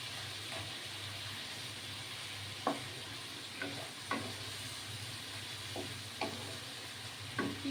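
Garlic chicken sautéing in a pan in a Bengali home kitchen, giving a steady frying hiss broken by a handful of sharp spatula scrapes and stirs spread across the clip, with no voices.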